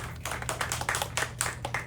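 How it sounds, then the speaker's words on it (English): Students applaud in a classroom, a steady patter of many hands clapping at close range with no voices over it. "Everybody give them a round of applause."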